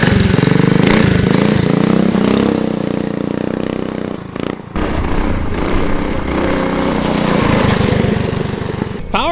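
Close by, a custom mini trike's small engine idles with a steady, tame putter and brief throttle rises. A short break near the middle interrupts the running before it picks back up.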